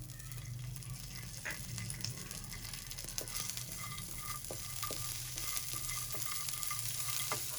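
Makhana and raisins fry in ghee with a soft, steady crackling sizzle and scattered small pops and stirs, quiet and continuous with nobody speaking.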